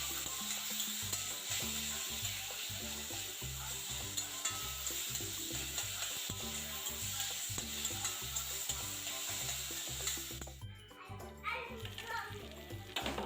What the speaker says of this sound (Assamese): বেঙেনাখিনি যেতিয়ালৈকে পানীটো নমৰে তেতিয়ালৈকে ভাজি গৈ থাকিম